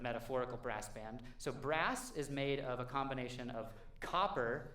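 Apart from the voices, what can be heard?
None of the usual background noises is heard.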